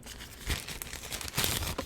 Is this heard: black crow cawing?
no